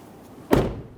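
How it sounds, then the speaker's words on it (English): The front door of a 2011-2015 Kia Sorento is shut with a single solid, close thud that rings out briefly. "Then you want to go ahead and shut that door"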